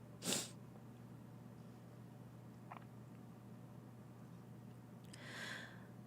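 One short, sharp sneeze snaps out close to the mic at the very start, then near silence with a faint click and a soft breathy snort or sniff toward the end.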